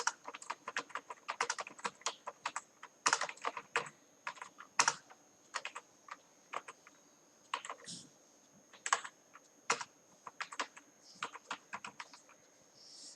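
Rapid typing on a computer keyboard while entering a folder-creation command in Notepad: close, crisp clicks in uneven bursts, alone, with short pauses between runs of keystrokes.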